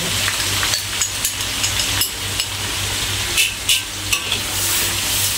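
Sautéing for ikan kembung masak kicap lada cili, with a loud, close, steady sizzle in the pan and occasional spatula scrapes, no talk.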